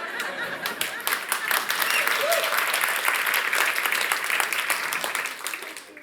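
A conference audience at a talk on documentation leadership breaks into dense applause with a few light chuckles mixed in, holding steady for several seconds before tailing off.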